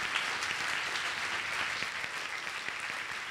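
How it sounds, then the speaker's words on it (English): An audience at a cognitive science conference session applauds its speakers, a fairly faint, steady patter of many clapping hands that continues evenly throughout, with no talking over it. "we can give one more round of applause to all of our speakers"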